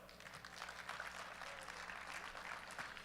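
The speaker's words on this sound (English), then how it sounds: "Big round of applause for Tony Cardella." Faint, distant audience applause at a USA Powerlifting meet for a champion bench presser from Texas, a steady wash of scattered clapping from a crowd.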